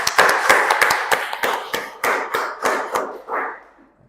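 Applause from a school audience after a finalist's performance at a competition final: sparse, separate hand claps in an uneven rhythm that thin out and fade toward the end, heard with no talk over them.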